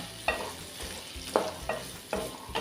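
Ridge gourd (padwal) with spices and gram flour being stirred in a pan, several scraping strokes of a spoon at irregular intervals over a soft sizzle.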